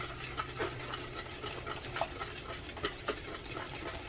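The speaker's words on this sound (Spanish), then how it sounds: "y lo voy a estar mezclando" Chocoflan batter of eggs, oil and water is stirred in a bowl, a steady close scraping and sloshing with small clinks from the utensil throughout.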